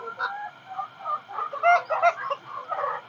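Chickens in a coop on a farm in Dubai, clucking in short irregular calls, moderately close and layered over a quiet background.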